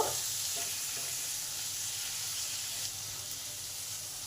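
Chopped tomatoes softening in a pan for vegetarian bhindi masala give a soft, even sizzle that holds steady throughout, fairly quiet and with no talking.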